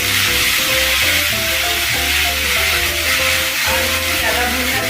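Chopped vegetables dropped into hot mustard oil in a kadhai for a Bengali-style bottle gourd and masoor dal dish, giving a steady, loud broadband sizzle that holds evenly throughout over a low background hum.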